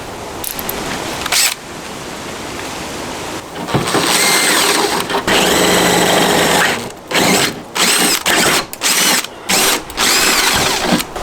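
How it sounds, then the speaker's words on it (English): A power drill with a large bit grinds through material in a long run, then stops and starts in several short bursts, drilling a hole to mount a spare wheel on a Lexus GX470. It is close and loud. "Next, we're gonna use the big drill bit."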